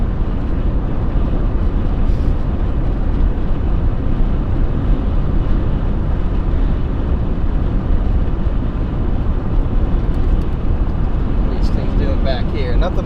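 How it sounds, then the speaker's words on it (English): Loud road noise fills the cabin of a Toyota RAV4 while it drives: a dense, constant roar of tires on pavement that holds at an even level from start to finish. "That's the thing about these RAV4s, or at least this car in particular, is there is so much loud road noise"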